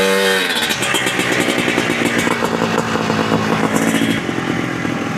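A restored Polaris TrailBlazer 250 ATV engine runs loud and close at a steady idle, giving a continuous buzzing putter with a rapid even pulse.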